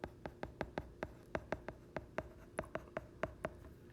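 Handwriting on a board or paper during a Korean grammar lesson, sharp light taps and short strokes in an irregular rhythm, close and faint against a quiet room.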